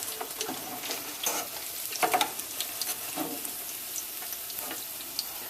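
Sago tikki patties frying in hot oil until browned, a close crackling sizzle broken by clattering stirs and scrapes as they are turned and lifted from the pan.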